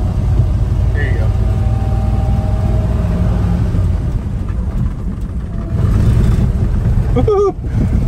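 A 1955 Mercury M100 pickup truck's engine rumbles and revs steadily up close, with a brief cheering voice rising over it near the end.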